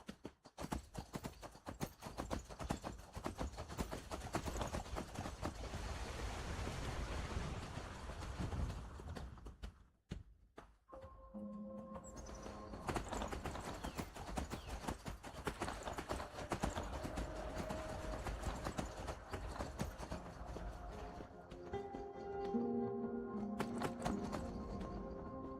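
Horse hooves clip-clop in a steady rhythmic gait in the video game Skyrim, loud and close, with a brief pause midway before the trotting resumes under faint tonal game sounds.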